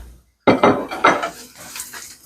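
A spoon scrapes and clanks around a karahi, mixing onion, mustard seeds, fenugreek seeds and dried red chillies; several close, loud metallic strokes follow a short silence, with faint sizzling underneath.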